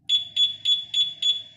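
Five sharp electronic beeps repeat evenly in quick succession, a high, piercing locator chirp from a two-way alarm on a Honda Click 125i scooter close by.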